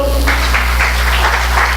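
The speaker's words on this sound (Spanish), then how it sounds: "denle ese aplauso al Señor" A church congregation claps for the Lord during a Spanish-language service, loud and continuous, dense overlapping claps with a strong low hum underneath throughout.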